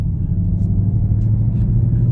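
A Ford Mustang cruising at low speed gives a deep, steady engine rumble heard up close from inside, with no one speaking.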